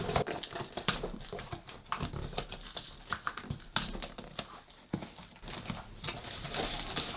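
A mailed package is ripped open by hand, giving loud irregular crinkling, tearing and rustling of paper and plastic packaging, close and continuous for several seconds, with no talking.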